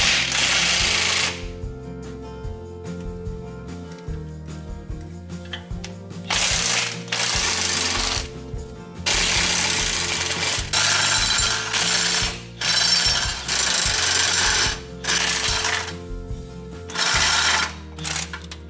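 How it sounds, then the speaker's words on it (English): Bolts holding the CV axle to the differential on a 2002 Nissan Xterra being loosened with a ratchet, loud close bursts of rapid mechanical clicking and whirring that repeat in short runs with brief pauses between them. "next I'm just gonna take off these 6 bolts that hold the CV axle onto the differential."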